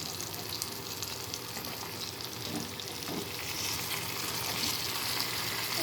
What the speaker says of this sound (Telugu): ఇప్పుడు వంకాయ ముక్కలు వేసేసుకుంటాను